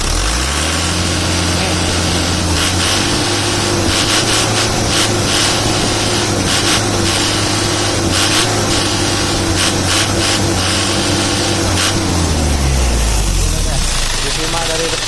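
A Mitsubishi L300 diesel van engine runs steadily after a valve adjustment, with a loud, rough idle drone and rhythmic knocking close by, its pitch dropping near the end.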